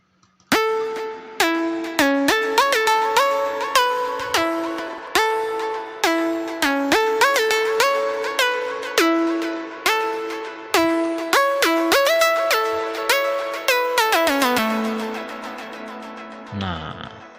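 A bright synth melody for the second part of an electronic music project plays in rapid plucked notes with steady rhythmic pulses, ending on a sustained low tone, alone without voices.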